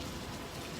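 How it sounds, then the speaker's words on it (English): Torrential rain pours down in a heavy, dense, unbroken hiss of drops, loud and close, with no voices. "In this torrential downpour."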